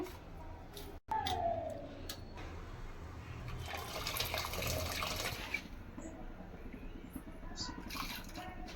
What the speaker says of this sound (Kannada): ಸಾಂಬಾರು ಬೇಯ್ತಾ ಇದೆ